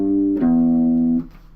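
Electric guitar plays a short pull-off phrase from a song: a plucked note drops onto a sustained lower open-string tone that rings clearly for about a second before being cut off.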